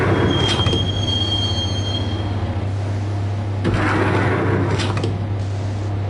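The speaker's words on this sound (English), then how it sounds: "the train doors had already shut behind me, and I was in for the ride" A subway train in the Max Payne video game rolls along the rails with a loud continuous rumble and high metallic wheel squeals, ending in a sharp screech, heard close up with no voices.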